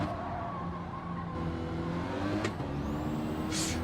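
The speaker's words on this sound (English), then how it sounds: "Engine's got a lot louder than that. It's got a bit of a thump to it. Yeah, got a big cam in this little Mini engine." A racing video game Mini with a big cam in its small engine drones steadily at a constant pitch, a continuous thumping engine note with a brief sharp click partway through and no speech.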